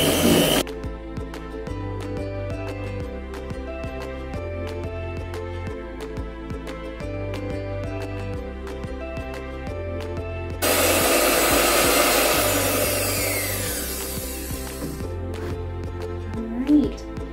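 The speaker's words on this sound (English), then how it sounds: "Continue to mix this till it's nice and whipped." An electric mixer whips cream cheese buttercream frosting with a steady, close motor whir and a pulsing beat. Midway the sound turns into a louder, rougher whirring for a few seconds, then settles back to the even hum.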